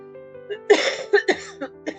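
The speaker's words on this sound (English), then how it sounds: "I've got a bit of cough, a very dry throat" A woman gives a short burst of dry coughs close to the microphone, several sharp hacking bursts over a quiet steady background hum.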